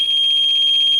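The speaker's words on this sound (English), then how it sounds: "yeah, that's how it beeps, indicating that battery is bad" An APC Back-UPS SE 750 with a bad battery gives off a steady, loud, piercing electronic beep tone that holds unbroken and close by with no talk over it.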